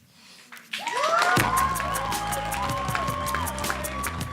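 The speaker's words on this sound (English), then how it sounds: "Give those poets a round of applause." An audience at a poetry slam semi-final erupts into cheering and applause for the poets, the crowd noise swelling quickly and staying loud and sustained, with music rising beneath it.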